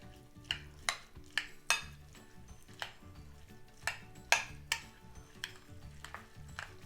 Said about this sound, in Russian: Все перемешиваю.